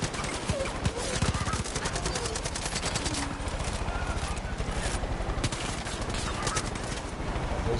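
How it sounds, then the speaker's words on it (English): Enemy gunfire in the Far Cry 5 video game, a dense, continuous stream of shots and bursts running throughout under a busy mix of other game sounds. "They're shooting at me, that's for sure."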